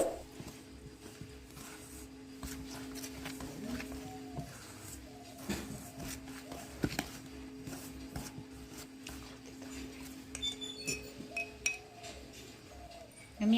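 A spoon clinks and scrapes against a bowl while milk is stirred into thick Oreo cake batter, light irregular taps and rubbing over a low background hum, close by and with no talk.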